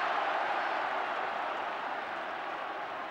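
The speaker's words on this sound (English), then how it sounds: "You should see the crowd down here now. And you should hear them." A football crowd at the Brighton v Liverpool FA Cup fourth-round match roars and applauds in a steady, dense wall of noise from a large stadium audience that stays loud throughout and eases slightly toward the end.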